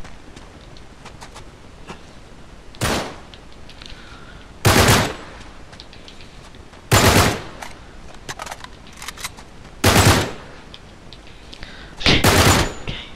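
Gunfire in the video game Uncharted 3: five loud bursts of automatic fire spaced a couple of seconds apart over a low steady background hum, with no talk.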